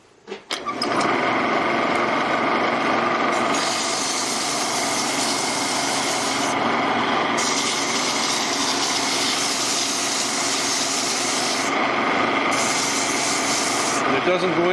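Sandpaper, coarse 180 grit then fine 240, presses against a cherry wood stove knob spinning on a lathe. It gives a loud, continuous, whirring hiss with the motor hum underneath and short dips as the paper lifts.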